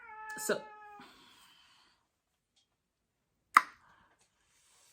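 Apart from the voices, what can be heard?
pet cat meowing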